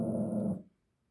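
Cookie, a small Chorkie dog, gives a short, loud vocal burst, a bark or growl aimed at a squirrel, for about half a second and then falls silent.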